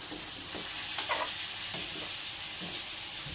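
Potatoes and carrot fry in a pan for a pork guisado, giving a constant bright sizzle with a few soft stirring scrapes and bumps underneath.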